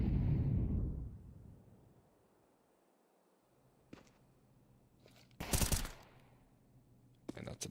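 Counter-Strike match with a burst of gunfire at the start, then a quiet lull, followed by a few sharp shots and a loud crack of fire near the end.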